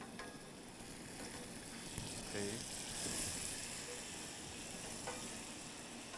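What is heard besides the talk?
jalapeno sizzling in a pan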